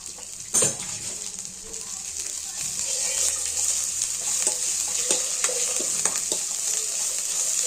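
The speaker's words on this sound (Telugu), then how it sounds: "ఇందులో కొంచెం పుదీనా, కొంచెం కొత్తిమీర వేసి కలుపుకోవాలి" Chicken curry with mint, coriander and ginger paste being stirred in a hot pan, giving a steady close sizzle with spoon scrapes and a sharp clank near the start.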